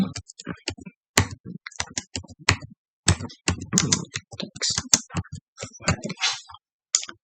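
A project name is typed on a computer keyboard: crisp, close key clicks in uneven quick runs with brief pauses.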